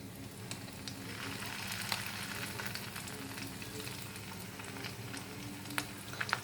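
Fish fritters frying in hot oil give off a steady, close sizzle with scattered crackles and small pops, continuous throughout with no voices.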